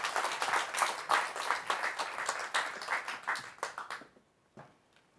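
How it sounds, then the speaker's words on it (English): Audience at an equality summit gives a round of applause for panelists walking on stage, dense clapping that thins into a few scattered claps before stopping near the end. "If you can give them a round of applause."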